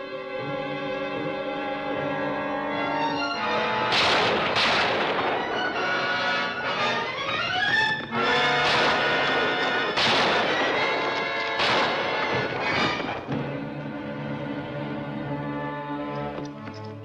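Heavy gunfire in a film battle against Apaches, several loud booming shots cutting through sustained dramatic orchestral music.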